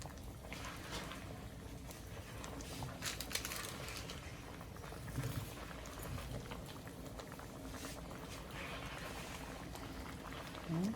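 Water boils steadily in a pot of sautéed mung bean stew with pork and bitter gourd. A continuous bubbling simmer runs evenly throughout, close and moderately loud, with no talking.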